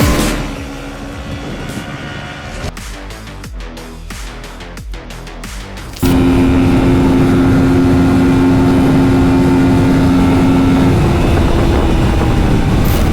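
A TVS Apache RTR 310 motorcycle rides in Thailand, its engine first fluctuating through choppy bursts, then holding a loud, steady high-rev drone with wind rush.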